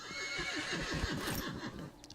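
A horse in Minecraft lets out one close, fairly quiet whinny lasting about two seconds, its wavering pitch rising and falling in quick pulses.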